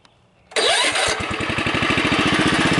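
A tractor engine cranks briefly, then catches and settles into a loud, steady, rapid chugging idle close by, with no voices.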